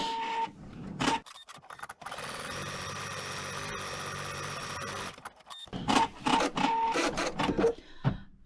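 An embroidery machine runs steadily as it stitches satin zigzags onto an Easter egg design, giving a fast mechanical whirring hum, with sharper clicking and rattling bursts near the start and end.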